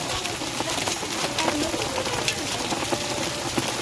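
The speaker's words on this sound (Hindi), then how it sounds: "बारिश जो है अभी चल रही है दोस्तों यहाँ पे। और ये देखो ओले भी पड़ रहे हैं।" Heavy rain with hail beats down in a dense, steady wash, with scattered sharper impacts throughout and no pauses.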